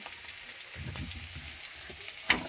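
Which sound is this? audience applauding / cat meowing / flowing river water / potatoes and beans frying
potatoes and beans frying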